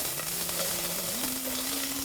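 Onions fry in a pot for dhal soup with a steady close sizzle and a faint underlying hum that rises slightly in pitch partway through.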